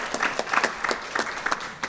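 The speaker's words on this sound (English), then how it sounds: "Applause, applause, applause." Brief applause rises from a meeting audience, a quick run of scattered handclaps at moderate volume, with faint voices underneath.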